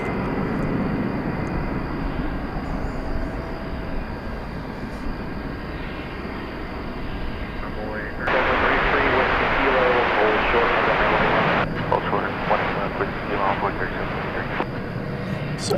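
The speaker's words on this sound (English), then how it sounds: "Such a nice looking aircraft." A plane moves through DFW Airport at night, a steady broad engine roar that swells louder partway through and then eases, heard from a spotting spot with faint radio-like chatter underneath.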